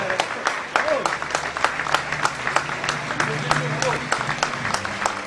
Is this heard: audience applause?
yes